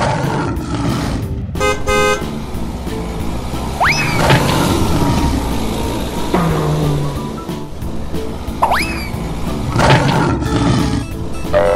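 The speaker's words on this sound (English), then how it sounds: "Lion." A lion roars in a busy, layered mix with horn-like toots, sweeping whistles and chiming tones, the roaring rising and falling in a few loud swells.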